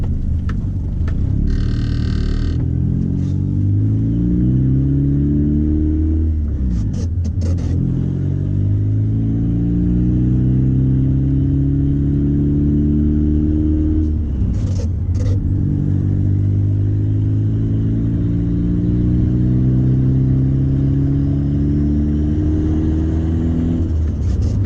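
Turbocharged Honda Accord CD5 engine pulls hard while driving, its tone rising steadily through the gears in three long climbs broken by brief shift dips, loud and close throughout.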